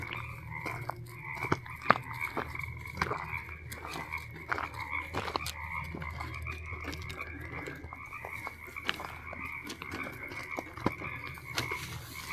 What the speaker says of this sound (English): I'll be quiet and let you listen to the frogs.